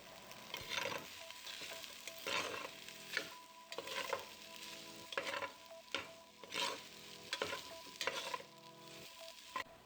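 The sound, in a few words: saltfish and pigtail frying and being stirred in a pot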